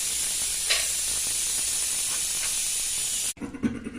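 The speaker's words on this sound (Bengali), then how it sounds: "এখন একটু ডিপ ফ্রাই করে নেব" Vegetable chops deep frying in hot oil give off a loud, steady hiss and sizzle that runs unbroken for several seconds, then cuts off abruptly to a quieter, uneven background.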